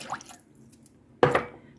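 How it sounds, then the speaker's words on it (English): Chicken broth and water pour into a cooking pot, ending in a short, wet splash of liquid after a faint drip, quiet and close by. "So you want to add 1 can of chicken broth, any kind of chicken broth you like."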